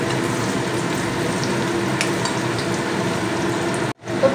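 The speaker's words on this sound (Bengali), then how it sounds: "তো পেঁয়াজটা আমি পেরেস্তা করে ভেজে নেব।" Chopped onions frying in oil in a pan, a loud continuous close-up sizzle that holds steady before cutting out abruptly near the end, no talk.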